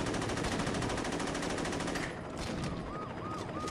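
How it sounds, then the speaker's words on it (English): Saints Row gunfire crackles as a dense, rapid burst of loud shots for about two seconds, then drops to a lower background din with faint tonal electronic chirps. "I will shoot you bitches down"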